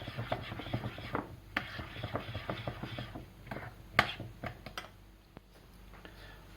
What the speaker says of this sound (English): I'm just stirring this egg in